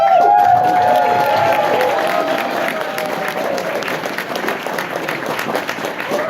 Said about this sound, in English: please give a very warm round of applause first for our first co-chair of HarmonyCon, Pepper.